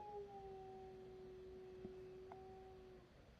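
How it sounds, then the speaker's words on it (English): A dog howls from a distance, a long, steady, drawn-out tone holding for about three seconds, faint over a quiet room hum. "If you hear a dog, that's my dog howling."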